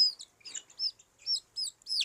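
A small domestic chicken chick, one with an eye disease, cheeps in short, high, repeated peeps, about six chirps in quick succession, close and clear against a silent background.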